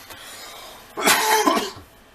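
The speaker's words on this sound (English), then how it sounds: "Oh, one cough per video." A single close cough, a short raspy burst, breaks through quiet background noise.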